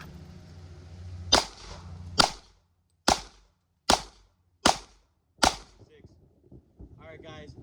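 Six sharp pistol shots ring out at a range target, evenly spaced about a second apart, each a loud crack with a short decay, following a brief low murmur at the start.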